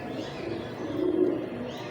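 Pigeons in a loft, including Sialkoti and crossbred teddy birds, give a low continuous cooing murmur that swells slightly midway, steady and close with no voices.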